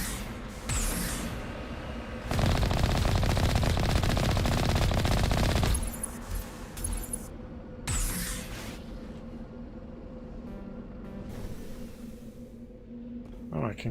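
Automatic gunfire in Mass Effect Legendary Edition, a sustained loud burst lasting several seconds followed by shorter sporadic shots and game effects, with a voice speaking briefly.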